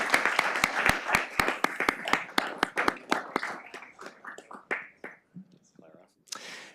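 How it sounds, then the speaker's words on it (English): Applause at a city council and redevelopment agency meeting for Clara, a poster contest entrant: sharp, close claps from a small group, fast at first, then thinning and scattering into a few last claps, with murmuring at the end. "Let's everyone please give Clara a big round of applause."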